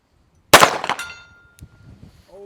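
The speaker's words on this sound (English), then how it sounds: "100-yard hip shot." A single sharp gunshot fired from the hip at a target 100 yards away, loud and close, with a metallic ring and echo trailing off afterward.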